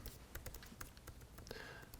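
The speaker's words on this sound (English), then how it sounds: "I'm typing just to keep count" Someone types on a computer keyboard in quick, irregular clusters of close clicks over a faint background hum, with no voices during the typing.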